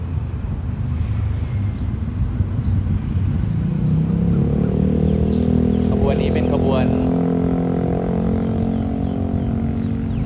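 Diesel railcar express No. 44 from Surat Thani to Bangkok, powered by a 350-horsepower Cummins NTA 855 R1 engine, passes beneath a bridge with a loud, steady engine roar and wind rush that swell midway, and a brief horn-like tone.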